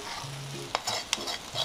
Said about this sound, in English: So now I'm going to mix it up with the water.